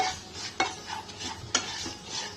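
Varai rice stirred and dry-roasted in a pan for Ashadhi Ekadashi fasting kheer, with charoli, giving a soft steady scraping and faint sizzle broken by two sharp spoon knocks against the pan.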